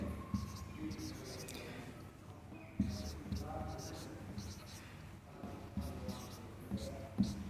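A pen scratches out a matrix by hand during a Class 12 maths lesson, producing soft, close strokes and taps in short bursts beneath a teacher's ongoing talk.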